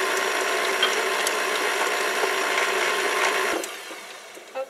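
An electric mixer blending cream cheese with milk for a cream puff dessert whirs steadily and close, a constant mechanical grinding drone that cuts off near the end, with no talking.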